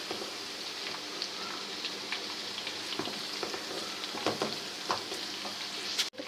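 Garlic ginger paste frying on a low flame for chicken malai, a soft continuous sizzle with light crackles and occasional stirring taps, close but quiet, ending in a sharp knock.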